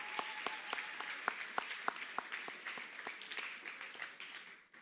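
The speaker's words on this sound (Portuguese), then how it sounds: "a gente tem a Rebeca e a Lauren, uma salva de palmas para elas." A small group claps in a brisk burst of applause, individual hand claps distinct at first, then blending and fading out.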